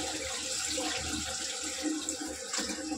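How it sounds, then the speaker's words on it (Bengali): Rice being washed under a running tap, a continuous close splash of water with uneven sloshing and rubbing as grains are swirled, no talk. "চালটা ধুয়ে নেবো"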